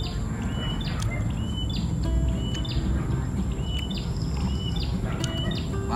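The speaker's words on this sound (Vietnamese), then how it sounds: "Vừa ăn gà mà còn vừa nghe tiếng chim hót nữa các bạn." Birds sing outdoors on a riverbank during a picnic, their faint, scattered chirps and short whistled phrases sitting over a steady, loud low rumble of background noise.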